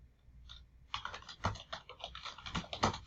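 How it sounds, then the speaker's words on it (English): Computer keyboard typing, a faint close run of soft key clicks that gets busier after a brief pause, with no voices. "let me type that here"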